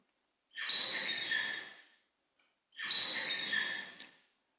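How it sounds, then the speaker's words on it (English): Bengalese finch song in two quiet, high, buzzy bouts of rapid syllables, each lasting about a second and a half, with a short silent gap between them. "is Bengalese finch's song."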